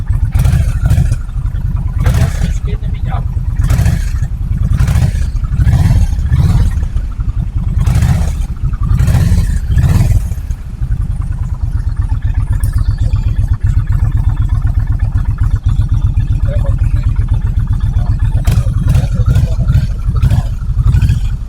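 A Kawasaki Vulcan 1600 Mean Streak motorcycle engine runs steadily up close with a continuous low rumble and mechanical clatter, joined early on by a few sharp rhythmic bursts.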